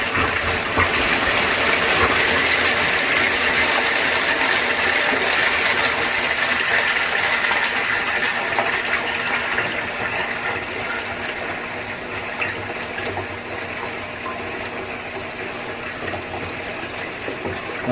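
A pump churns water inside a 55-gallon drum pond filter, producing a loud, steady rushing and gushing stir that holds throughout without pause and eases only slightly toward the end.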